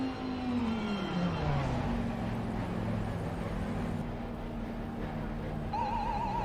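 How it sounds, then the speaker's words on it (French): A racing car in Assetto Corsa Competizione, played in VR, drones steadily as it enters the pit lane; near the end a short warbling alarm tone sounds over the engine to signal the car arriving at the pits. "la petite alarme pour attirer l'attention sur le fait qu'une voiture rentre dans la stand"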